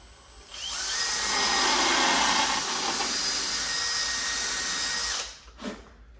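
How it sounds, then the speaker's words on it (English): A power drill whines loudly for about five seconds as it bores a pilot hole through a board into a 2x4 while installing a newel post, then winds down and stops, followed by a brief clunk. "now I've drilled all the way back through this board and into the 2x4"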